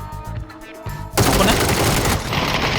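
Gunfire in PUBG: after a quieter stretch, a loud, dense burst of shots and booms fills the second half, sustained and close.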